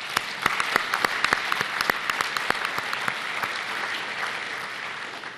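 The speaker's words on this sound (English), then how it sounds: "I think you deserve a great round of applause from everybody" Applause from the audience at a healthcare congress: many hands clapping together in a continuous wash with a few crisp nearby claps early on, gradually settling and thinning toward the end.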